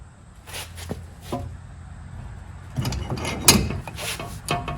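An inner tie rod on a 2005-2012 Chevrolet Colorado/GMC Canyon being loosened with a breaker bar and adapter wrench, metallic clunks and a grinding ratchety burst near the middle, close up with no talking.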